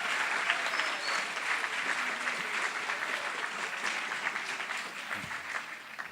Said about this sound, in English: we could give him one round of applause